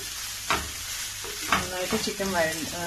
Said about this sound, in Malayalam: നന്നായിട്ട് സവാള വഴണ്ട് വരണം